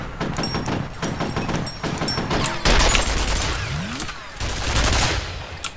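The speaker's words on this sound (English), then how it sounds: "ridiculous that it's still shooting, even now. Where is it even shooting at?" Automatic gunfire in the video game F.E.A.R., a loud, sustained fusillade of rapid shots with booming impacts running the whole time, no talk.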